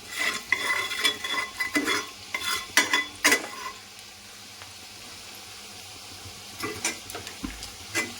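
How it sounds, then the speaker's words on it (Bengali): Whole garam masala spices sizzle steadily in hot oil while a utensil stirs and scrapes the pan in short bursts, with no talking. "তেলের মধ্যে গোটা গরম মশলা দিয়ে দিলাম"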